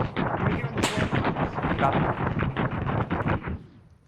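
Indirect artillery fire lands in ArmA 3 as a loud, continuous barrage of booming impacts and rumbling blasts that fades near the end, with voices mixed into the din.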